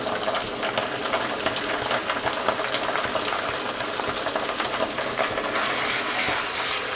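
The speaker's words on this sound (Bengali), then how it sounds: "আদা এবং রসুন বাটাটাকে হালকা করে একটু ভেজে নিব" Ginger and garlic paste frying in a pan with browned onions, making a continuous close bubbling sizzle with crackly spits that stays steady throughout, with no voices.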